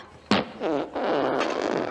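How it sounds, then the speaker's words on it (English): A loud, wet fart bursts out suddenly and keeps sputtering and rumbling for over a second, close and unbroken. "is frequently ripping juicy farts out of his ass crack"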